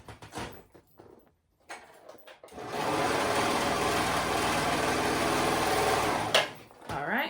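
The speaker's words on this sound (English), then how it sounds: "we're going to go ahead and sew that shut" A sewing machine stitches a fabric strip folded right sides together, its steady motor whir running for about four seconds after some soft handling rustles, then stopping.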